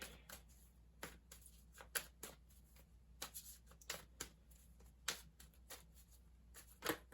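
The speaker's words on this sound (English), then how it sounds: "I'm just going to give them a nice little shuffle" Tarot and oracle cards are shuffled by hand, giving a quiet run of crisp riffling snaps and soft slaps spaced irregularly over several seconds, close up and faint.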